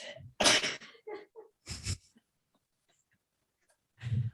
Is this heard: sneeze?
yes